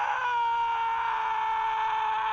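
A game character in Final Fantasy VII Remake lets out a long, sustained scream voiced by Cody, tonal and strained, holding steady and loud across the whole clip with no other talk.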